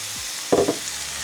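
Chicken broth is poured into a pan of chicken goulash with potatoes and beets, setting off a brief, close burst of sizzling and stirring over a low background hiss, with no one talking.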